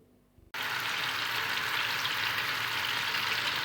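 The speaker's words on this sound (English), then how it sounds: "Slice and dice some mushrooms and fry them first" Sliced, diced mushrooms hit a hot pan and burst into a loud, steady sizzle of frying that continues evenly after a quiet start.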